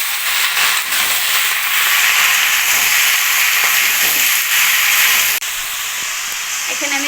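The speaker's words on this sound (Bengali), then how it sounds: "এখন এখানে আমি এই যে কেটে রাখা সম্পূর্ণ সবজিগুলো ঢেলে দেব।" Chopped vegetables hit a hot pan of fried onions with a loud, steady, hissing sizzle that holds for several seconds, drops abruptly in level, then carries on more softly.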